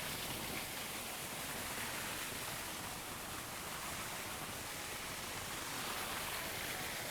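Rushing water of a waterfall in the Garden of Morning, a soft, even hiss that carries on unchanged and fairly faint throughout, with no talking.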